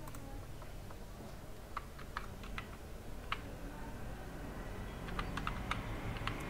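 Irregular keystrokes on a computer keyboard while typing text into MS Paint: quick, close, fairly quiet clicks in short bursts over a low steady background hum, with no talk.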